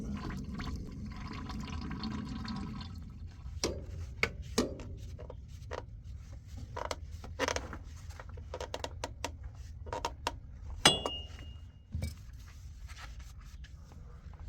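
Diesel fuel poured into a new fuel filter during a diesel engine service, a steady liquid trickle and fill running throughout with scattered sharp clicks and knocks of handling close by.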